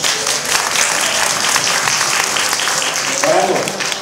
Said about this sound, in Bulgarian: И сега аплодисменти за носителката на първа награда Тея Стратиева.